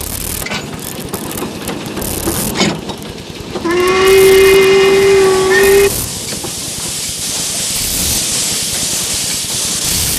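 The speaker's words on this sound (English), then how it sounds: "These splendid little trains still chug their way along 10 different narrow-gauge lines." A narrow-gauge steam train in Wales blows its whistle, a steady, loud tone for about two seconds, set against rumbling, chuffing train noise and hiss throughout.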